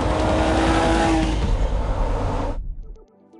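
A Porsche 911 GT3 engine roars loud and close on a test drive, a sustained high-revving howl that cuts off abruptly after about two and a half seconds and leaves only a faint tail.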